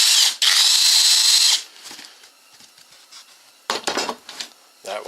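A power drill bores through open-cell foam for a cup holder, a loud, dense whirring burst for about a second and a half, followed by softer scattered rustling and handling noises.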